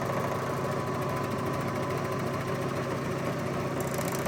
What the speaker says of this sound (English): I'm just going to serge right along that short edge